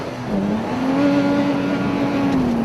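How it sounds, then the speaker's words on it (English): A rebuilt Toyota Tacoma spins four-wheel drive donuts, its engine holding a steady, droning rev that swells slightly and stays loud and close throughout. "Let's go with four-wheel drive donuts"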